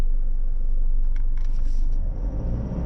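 A 2025 Toyota Prado 250 GX with all-terrain tyres and the centre diff locked strains uphill off-road, its engine a loud, steady low rumble with a faint whine on top, then a slight dip near the end, no voices.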